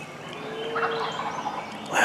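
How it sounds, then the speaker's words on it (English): A wild turkey gobbler in the late hunting season gobbles once in a loud, rapid rattling burst from fairly near, with a quieter call before it in the open air. "closest I've been to a gobbling turkey since I've been here."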